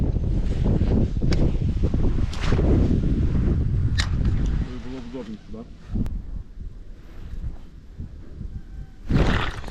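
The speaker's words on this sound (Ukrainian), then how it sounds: "З цим вітром трохи некомфортно." Wind gusts strongly against the microphone during a zander fishing outing near Vinnytsia, a loud rough rush that eases midway, while someone talks over it.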